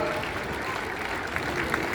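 Audience applause at an Arya Samaj 150th foundation day ceremony in Delhi, a steady dense wash of clapping from a crowd held at an even level for the whole stretch, with a few sharper individual claps near the end.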